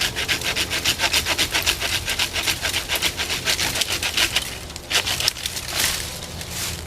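A Harbor Freight 8-inch folding pruning saw cuts through a tree branch outdoors with steady, rapid back-and-forth rasping strokes, loud and close, continuing without pause for several seconds.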